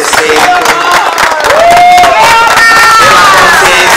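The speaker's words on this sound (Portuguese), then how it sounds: "Uma salva de palmas para nossa vitória religiosa, do nosso respeito" Loud crowd at a religious festival celebration claps and cheers, with whoops and shouted voices rising over dense, close applause.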